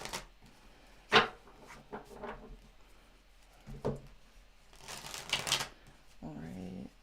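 Tarot cards are shuffled in a few quiet, separate bursts of riffling and flicking, with a soft voice speaking between them in a quiet room.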